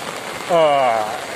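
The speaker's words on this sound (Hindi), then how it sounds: "कितना बड़ी और ज़बरदस्त बारिश है" Heavy rain falls in Swabi as a steady hiss, and a voice cuts in briefly over it partway through.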